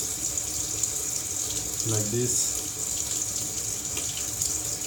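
Hot tap water runs steadily from a faucet into a sink while a brush is rinsed for cleaning a vinyl record, a constant close hiss with a brief voice speaking over it.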